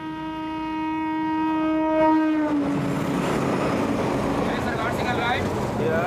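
A train horn sounds a long steady blast, then the rumble of rail cars grows loud and close as an Indian Railways train rolls into a station, with screeching wheels near the end.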